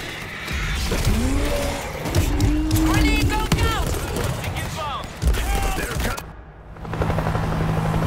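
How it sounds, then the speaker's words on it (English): Helicopter in the World War Z video game, Moscow level, idling on the ground amid gunfire and chaotic action, a steady rotor drone under shouting voices and bursts of noise, briefly dropping out near the end. "Chopper is on the ground."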